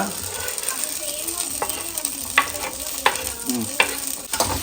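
Onions and coriander stirred in sizzling oil for chicken curry, with a steady frying hiss and several distinct scraping strokes of a spoon against the pan, close up and without talk.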